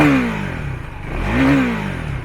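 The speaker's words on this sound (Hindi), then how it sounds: "Listen the engine sound now." A 2024 KTM 390 Duke single-cylinder motorcycle revved hard twice, the engine note climbing and falling back each time, loud and close with a clattering mechanical edge and no talk.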